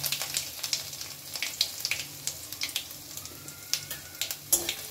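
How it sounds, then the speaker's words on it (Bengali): Grated ginger frying in a pan over a low gas flame, giving a steady, close sizzle with scattered crackles and pops and occasional stirring scrapes, with no talking. "গ্যাসের ফ্লেমটাকে একদম লো করে এবার আমি দিয়ে দেব গ্রেট করা আদা।"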